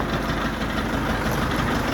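Four-cylinder diesel engine of a Dongfeng 404 tractor with cab idling steadily, a loud, close, continuous low throbbing rumble with no voices over it.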